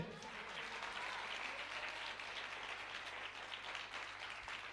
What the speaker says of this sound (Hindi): जोर से ताली देंगे